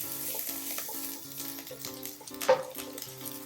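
Dry red chilies, curry leaves and turmeric sauté in hot oil in a pan, giving a close, continuous sizzle with light stirring scrapes and one sharper clink partway through, while tonal background music plays underneath.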